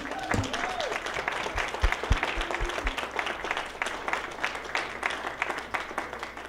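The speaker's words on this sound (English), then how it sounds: "Let's give him one more round of applause." A talent show audience claps for a performer, a full, lively round of applause with a few whoops and a faint voice underneath near the start.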